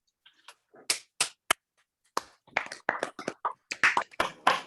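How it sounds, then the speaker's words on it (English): Scattered, sparse clapping from call participants over an online meeting, uneven and unsynchronised claps and taps that come in small clusters, close-miked but thin. "I would like all of us unmute and give a round of applause"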